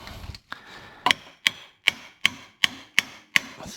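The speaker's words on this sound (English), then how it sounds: "Let's try a hammer." A hammer strikes a press-fit O-ring part into the water pump on a Toyota Aristo 2JZ-GTE engine, about eight sharp, evenly spaced close knocks, loud and clear with no talk.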